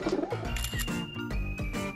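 Pigeons cooing at a holiday spot, a run of low, soft repeated coos close by that come in steady pulses, with some faint background noise around them.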